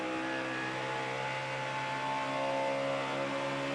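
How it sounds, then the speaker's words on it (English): A Roush Yates NASCAR race car engine at the 2009 Atlanta Kobalt Tools 500 drones steadily with strong tonal harmonics and a slightly uneven, intermittently rough character, heard from onboard and continuous throughout. "It's not missing, but it's got that intermittent kind of different sound to it."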